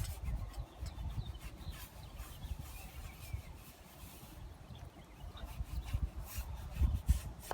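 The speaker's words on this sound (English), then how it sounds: "you want to scrub in a circular motion, like brushing your teeth" A brush scrubs a wet headstone in circular strokes, giving a steady soft rasping and rubbing close by, with uneven pulses of strokes and no talking over it.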